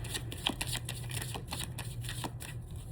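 A close, quiet shuffle of a tarot deck, with repeated crisp card flicks and riffles in an uneven rhythm, and no voices.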